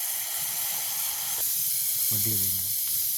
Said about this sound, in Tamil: இப்போ பார்த்தீங்கன்னா எங்களுக்கு எண்ணெய் நல்லா கொதிச்சுட்டேனே, சூடேறிட்டு வெட்டி வச்சுருக்கிற தக்காளி பழத்தை போடுவோம்